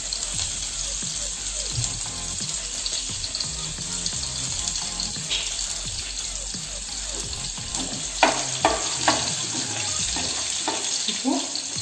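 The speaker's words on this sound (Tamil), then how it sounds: "பச்சை மிளகா, கருவேப்பிலை போடுவோம்." Green chili and curry leaves frying in hot oil for soya masala fry, a steady broadband sizzle running throughout with sharper crackling bursts and pops near the end, fairly close.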